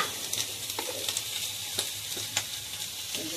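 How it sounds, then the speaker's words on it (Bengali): Eggplant seasoned with turmeric and salt frying in a pan, giving a steady soft sizzle with occasional light stirring scrapes and pops throughout. "লবণ দিলাম, ভেজে নেবো বেগুনটা"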